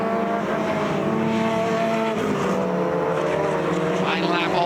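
Honda S2000 race cars on the final lap at Mid-Ohio, engines droning steadily at high revs with shifting pitch as cars pass, under a commentator's voice throughout.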